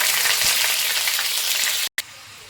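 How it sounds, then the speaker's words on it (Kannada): Chicken liver frying in hot oil, a loud continuous sizzle close up with a brief cut near the end, no voice over it. "ಈಗ ಸ್ವಲ್ಪ ಬಿಸಿಯಾಗಿದೆ ನಾವೀಗ ಲಿವರ್ನ ಹಾಕ್ಕೊಳ್ಳೋಣ ಆಯಿಲಲ್ಲಿ"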